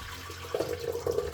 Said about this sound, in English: So what I'm doing with the kidney beans now, I'm straining off